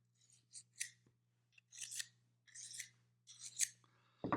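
A kitchen knife edge scraped in short, squeaky strokes to dull it, about seven separate rasps with brief pauses between them, close and fairly quiet.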